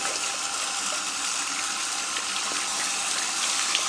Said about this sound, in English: So let them lean back in the sink and start rinsing.